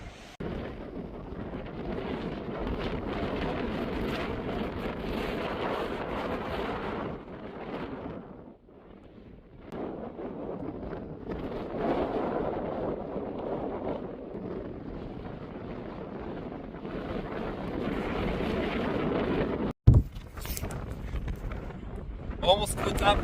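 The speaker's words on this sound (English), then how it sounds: "Very windy." Strong gusts roar across a mountain pass on a long-distance hike, buffeting the microphone in heavy waves with a short lull midway and a sudden thump near the end.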